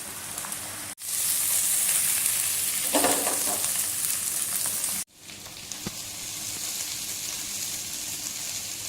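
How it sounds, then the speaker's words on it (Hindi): Fried mutton and potatoes sizzle loudly in a pan while being sautéed for aloo gosht, the steady frying hiss breaking off abruptly twice and resuming, with a stirring scrape midway. "अब ये फ्राई हुआ हुआ गोश्त हम इसके साथ भूनेंगे।"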